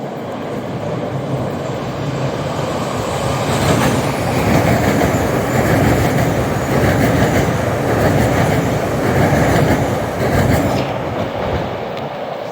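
An MBTA commuter rail train of newer cars passes close at Forest Hills Station, a loud sustained rumble with rhythmic clickety-clack of wheels over rail joints building and holding, no talk.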